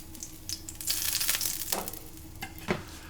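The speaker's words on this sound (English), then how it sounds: "And now we have seared our steak, guys." Ribeye steak sizzling in a pan right after searing, a steady crackling hiss with scattered sharper pops and spatters, fairly close and moderately loud, with no talking.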